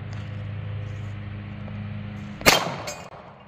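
A single sharp gunshot from a .45 ACP handgun cracks out loud and close after a few seconds of low background hum, followed by a brief ringing decay.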